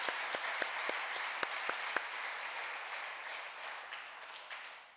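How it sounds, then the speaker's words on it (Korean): Church congregation applauding during a worship service, a few sharp individual claps standing out early over steady, fairly quiet clapping that gradually fades. "그분들을 위해서 우리 잠깐 박수할까요?"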